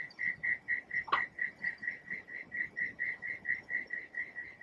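Outdoors, a steady run of evenly spaced high chirps repeats about four times a second from cicadas or crickets, loud and close, with one brief sharper call cutting in near the start.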